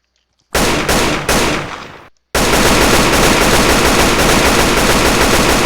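An RPK machine gun fires in a Minecraft Java server game: two short bursts, a brief pause, then a long unbroken stream of loud rapid automatic fire.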